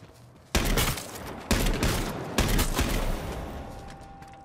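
Shotgun gunfire in H1Z1, three heavy blasts roughly a second apart, each loud and booming with a long rolling decay.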